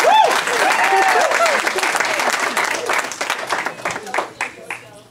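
An audience at a young comic's first live stand-up show claps loudly with some vocal whoops mixed in, the applause gradually thinning into scattered individual claps.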